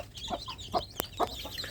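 Free-range village chicks in a brooder give repeated short chirping peeps, a few scattered calls at an unsteady rhythm, close and fairly quiet.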